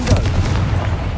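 A Confringo fire spell explodes in the video game Hogwarts Legacy, a loud, close, booming blast with a sharp crack at the start and a rumbling low tail that lasts about a second.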